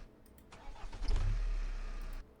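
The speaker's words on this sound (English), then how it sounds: "we have this car engine start" A car engine cranks and catches, then settles into a loud, steady low rumble for about a second and a half before cutting off, heard alone with no talk.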